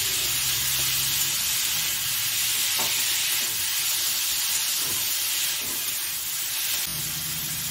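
Radish pieces fry in oil with turmeric while being stirred, giving a steady close hiss and sizzle with occasional scraping strokes and no talk.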